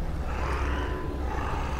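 A cacodemon in the video game Doom 3 lets out a low, rumbling roar that holds steady at a moderate level for nearly two seconds, set against dense game ambience with no voices.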